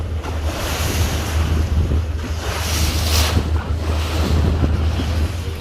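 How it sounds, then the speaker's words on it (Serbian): Crew rowing a boat across a calm sea near Dubrovnik during a long-distance rowing event, with steady wind rush and soft lapping water throughout, no distinct oar strokes standing out. "Evo možete vidjeti momke kako veslaju."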